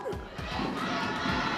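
A large crowd at an esports championship cheers and shouts loudly and continuously for the winning team, Twisted Minds, in a packed arena.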